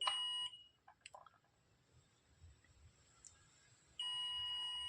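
A digital multimeter on continuity mode, testing a low 4-ohm resistor from an LED bulb, gives a steady, clear electronic beep lasting about half a second. A quiet pause follows, then a second beep sounds and holds through to the end.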